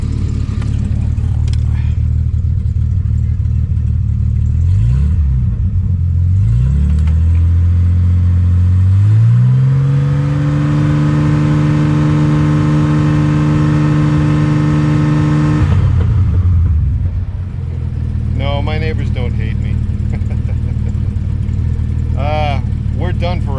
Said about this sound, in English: Give it a couple blips and then we'll shut it down